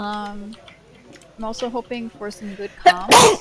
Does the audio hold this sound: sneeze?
yes